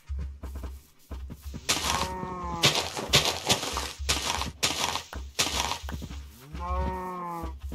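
Cows moo repeatedly in a video game, loud drawn-out lowing calls mixed with crunchy breaking and thudding game effects.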